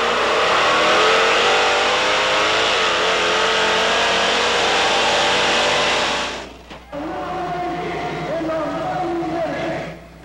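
The 1,000 horsepower engine of the monster truck Bigfoot 1 roars loudly and steadily, then briefly drops off and resumes at a lower, rumbling pitch, with faint voices beneath it.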